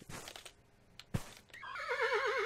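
A horse neighs in the video game Forestry 2017, a loud wavering whinny that rises after brief hoof-like thumps and rustling, close and alone.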